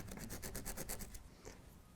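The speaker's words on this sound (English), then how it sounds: "I just use one of these sort of ordinary modelling files and give them a good scratch up" An ordinary modelling file rasped against model railway rails, a quick series of close, rhythmic scratching strokes that fade into softer rubbing.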